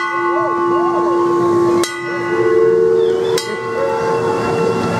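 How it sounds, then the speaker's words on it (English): A bell rings out in a busy outdoor setting at Disneyland California, with steady tonal hum and two sharp clangs standing out above a continuous background din. "everyone's ringing this bell"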